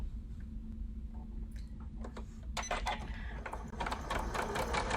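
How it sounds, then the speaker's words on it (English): A sewing machine chain-pieces quilt pieces, stitching in short runs that start and stop, close and fairly quiet, with the pace picking up toward the end. "So I'm just sewing along."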